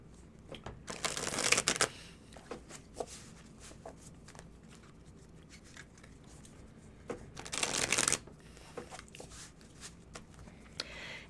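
Tarot cards being shuffled in two loud, crisp riffling bursts, one near the start and one about two-thirds through, with soft handling clicks and taps between them and no speech.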